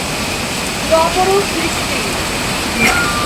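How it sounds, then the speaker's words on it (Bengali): Heavy rain pours in a dense, steady hiss at Bijanbari, Darjeeling, with a few faint tonal sounds briefly poking through the downpour. "ওইদিকে পুরো রোদ আর এখানে হচ্ছে জম্মের বৃষ্টি"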